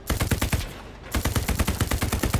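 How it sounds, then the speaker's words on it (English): Rapid automatic gunfire rattles close and loud in the World War II shooter Hell Let Loose, in fast, even bursts broken by a short pause before firing resumes. "I just don't have accuracy with this gun"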